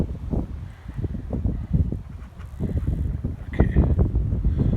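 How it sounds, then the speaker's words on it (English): Strong south wind buffeting the microphone in an open pasture during grass mowing, rough gusty rumbling that surges and dips throughout with no voices. "Wind's pretty strong from the south"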